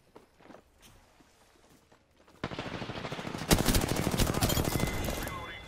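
Rapid automatic gunfire in the Apex Legends video game erupts midway and keeps rattling loudly, after a quieter stretch of scattered footsteps and movement.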